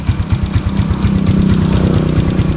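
A motorcycle engine idling while warming up, close by, with a steady rapid low thumping pulse and a slight rise in revs midway.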